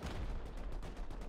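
Rapid gunfire in the survival video game Rust: a dense, steady stream of shots fired in quick succession at moderate loudness, with no talking over it.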